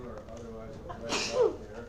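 A single sharp sneeze bursts out partway through a man's quiet speech during a biochemistry lecture, brief and fairly close.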